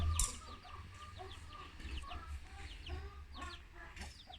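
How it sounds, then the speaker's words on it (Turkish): Chickens cluck repeatedly in the background, faint and steady, with a Brahma rooster among them over a low rumbling hum. "nasıl sonra bu horozumuz çağırıyor"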